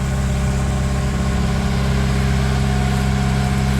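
A sailboat's engine drones steadily as it motors along St. John's south coast in the US Virgin Islands, a loud, even low rumble running alone throughout.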